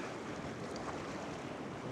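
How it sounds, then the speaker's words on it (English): Sea surf washes in and splashes over rocks at a coastal church site on Anglesey, a soft, distant rushing wash mixed with wind noise on the microphone and no talking. "So I just wait for a ripple to come in, start an exposure, and just as it splashes over"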